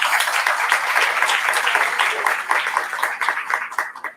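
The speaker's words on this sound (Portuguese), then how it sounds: "Gostaria de uma salva de palmas para a editora." Audience at a book launch breaks into steady applause, a dense wash of many hands clapping close by that thins and fades toward the end.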